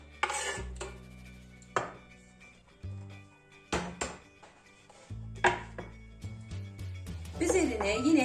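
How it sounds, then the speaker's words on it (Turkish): Knife chopping roasted red peppers on a board in short bursts of quick taps, with dish clatter between, while a person talks over the work. "közlenmiş olan kırmızı biberlerimi de doğruyorum küçük küçük"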